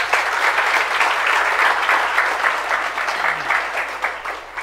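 Students in a live CA Inter law lecture applaud loudly, a dense steady clatter of many clapping hands that holds strong for several seconds with no talking.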